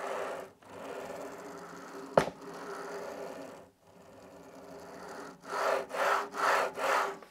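Festool Kapex KSC 60 cordless sliding miter saw head gliding smoothly along its rails, a long soft rolling slide, a brief click, another slide, then several quick back-and-forth strokes close to the microphone.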